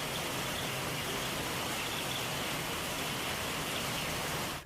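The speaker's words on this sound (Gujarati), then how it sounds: "અમદાવાદના કેટલાક વિસ્તારોમાં વરસાદ વરસી રહ્યો છે" Rain falls steadily over a city, a uniform broadband hiss of moderate loudness that holds constant throughout and cuts off abruptly at the end, with no speech.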